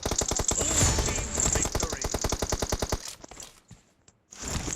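Rapid automatic gunfire in a video game, fired as one loud, evenly spaced burst for about three seconds, then breaking off into a few quieter scattered sounds and near silence.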